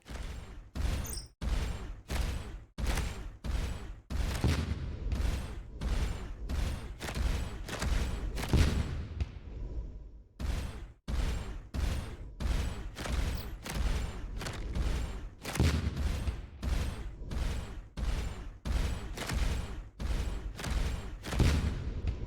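Rapid bursts of weapon fire from a space-combat game, Starcom Unknown Space, repeat in regular loud volleys throughout, broken by one brief pause partway through, with no talking over them.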